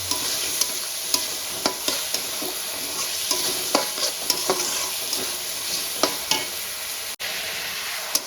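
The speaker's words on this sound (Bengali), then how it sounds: "পেঁয়াজটা আমি লাল করে ভেজে নেব।" Chopped onions frying in a pan to brown for a doi chicken, a continuous close sizzle punctuated by regular sharp stirring clicks and scrapes about every half second.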